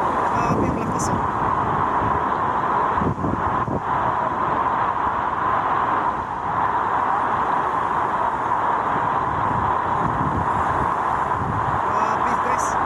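Strong typhoon wind lashes Catanduanes as Typhoon Uwan hits, roaring as a constant, loud, close rush with gusts buffeting the microphone, while someone speaks over the storm.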